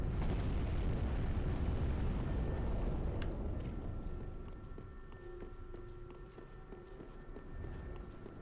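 A roaring fire breath attack from Dark Souls 3, loud and broadband at first, rumbling for about three seconds, then fading into a quieter sustained crackle with faint tonal ringing.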